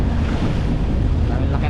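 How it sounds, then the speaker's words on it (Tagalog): Big ocean waves and strong wind at sea aboard a fishing boat, a loud, dense rush of wind buffeting the microphone over churning water, continuous and close throughout. "Dami laki ng alon."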